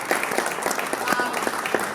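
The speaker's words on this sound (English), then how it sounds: "Round of applause, guys." Crowd applause fills a boxing press conference for Mayweather vs Chalmers, a dense, continuous patter of many hands with faint voices mixed in.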